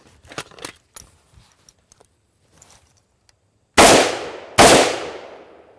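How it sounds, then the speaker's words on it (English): Two loud AK-47 rifle shots fired with the stock extended, each a sharp blast with a decaying echo, about a second apart, after quieter handling clicks. "I'm gonna show you 2 shots with the stock extended, 2 shots with the folded."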